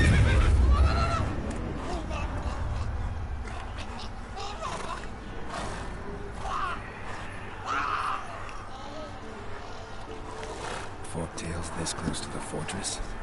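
Roach, Geralt's horse in The Witcher 3 at Kaer Morhen, gives a clear whinny and neighs near the start, followed by scattered hoof and game sounds at moderate volume.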